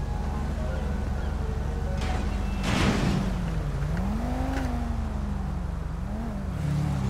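A custom drag motorcycle in GTA 5 holds a steady, droning engine note that swells into a rev partway through. The engine is close and loud, and there is no talking.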